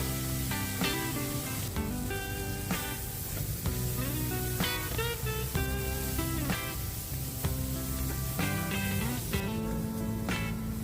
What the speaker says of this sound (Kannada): ಸ್ವಲ್ಪ ಟೊಮೆಟೊ ಸಾಫ್ಟ್ ಆಗೋ ತನಕ ಇದನ್ನು ಫ್ರೈ ಮಾಡ್ತಾ ಇದ್ದೇನೆ